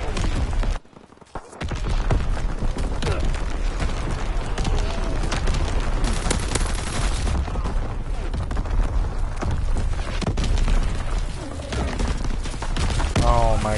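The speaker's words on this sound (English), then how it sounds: "Incoming enemy artillery." Enemy artillery barrage in Call of Duty: WWII, dense rumbling booms and blasts rolling on continuously, loud and close, with a player talking over the bombardment.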